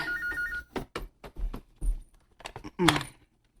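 Telephone ringing indoors in a drama scene, a short bright ring near the end among scattered knocks and movement sounds, with people talking in Cebuano around it.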